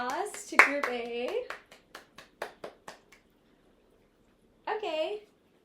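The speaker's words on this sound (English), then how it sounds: "So can we all give a round of applause to Group A?" A classroom gives a short round of applause for Group A, a few sparse, evenly spaced claps following a voice, with another brief voice afterward.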